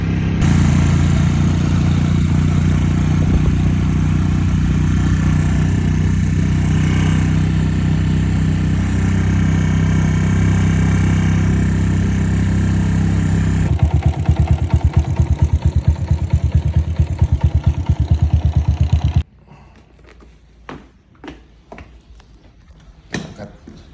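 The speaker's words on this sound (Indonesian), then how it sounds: "Ini motor CB, atau ini motor sepeda, motor sepeda." Honda CB motorcycle engine running close by, a steady loud idle with a rumbling drone that turns rougher and more pulsing partway through, then cuts off, leaving scattered knocks and clatter.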